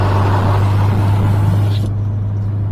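Car cabin noise while driving back onto the M6 motorway northbound: a loud, steady low engine drone and road roar that continues throughout, then the high hiss cuts away near the end.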